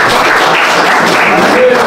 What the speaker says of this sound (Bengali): সকলকে বলতে হাত তালি দিয়ে সকলকে পুরস্কার দেওয়ার জন্য